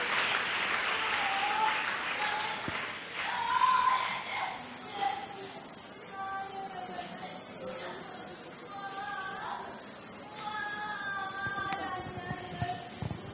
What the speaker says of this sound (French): Let's clap for Jesus.